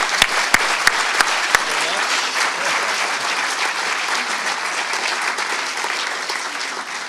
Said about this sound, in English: So without further ado, James, I need a big round of applause from everyone in here.